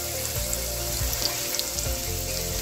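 Garlic and chili sizzle in a hot pan for mussel adobo, a steady close frying hiss with low clatter and a few soft bumps, no voices over it.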